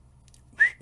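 A short, thin whistle-like harmonic squeak from a string instrument in a Mongolian rock band's song rises sharply near the end, high and piercing, followed by a second brief chirp.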